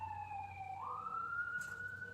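A distant fire truck's digital siren wails through the air, a steady tone that rises in pitch midway, faint and continuous over low background hum.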